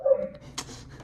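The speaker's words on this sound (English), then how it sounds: "that's the dogs right outside the window." Dogs just outside a window give a brief whimpering yip and a short bark, faint and distant, heard indoors.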